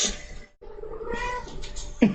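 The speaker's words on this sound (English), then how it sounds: "Cat antics in the background" A house cat gives a meow in the background, a drawn-out mid-pitched call followed by a short sharp cry at the end, amid faint room noise.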